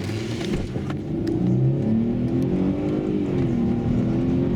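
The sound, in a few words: Mercedes-Benz ML350 V6 3.5 engine starting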